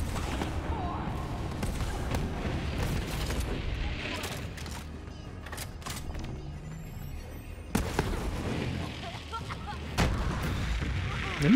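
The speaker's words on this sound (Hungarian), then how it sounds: "De mi ez az óriási robbanás utána?" Explosions and gunfire from the video game Borderlands 3 rumble and crack in bursts, with sharp booming hits near the end, while a voice talks over the game sounds.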